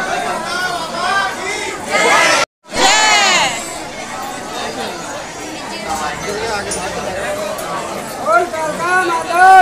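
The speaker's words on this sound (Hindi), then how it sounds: "लेकिन आज भीड़ बहुत है।" A large, dense crowd mills around Kalkaji temple in Delhi, with loud overlapping chatter, calls and shouts close by, broken once by a brief dropout before the babble resumes.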